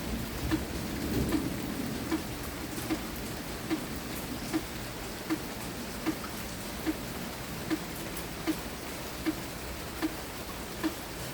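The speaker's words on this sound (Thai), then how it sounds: "บรรยากาศฝนตกที่บ้านเรานะคะ" Afternoon rain falls steadily at a house, a soft continuous hiss with regular drips ticking about once a second and a faint low rumble underneath.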